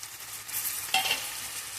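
Onions frying in a pan with salt for a chicken curry, a close, even sizzle with a brief metallic scrape of a spoon partway through.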